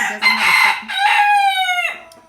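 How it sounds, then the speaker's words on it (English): One loud game rooster crow close by, a rough opening note rising into a long drawn-out cock-a-doodle-doo that cuts off sharply. "There's the game rooster."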